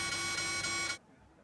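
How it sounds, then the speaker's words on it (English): A vaccination pass scanner buzzer at a Hong Kong shop entrance gives one steady, loud, harmonic-rich electronic buzz lasting about a second, then cuts off abruptly into quiet room tone. "A buzzer will sound,"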